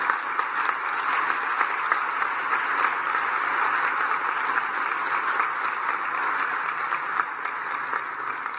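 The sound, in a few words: audience applause at award ceremony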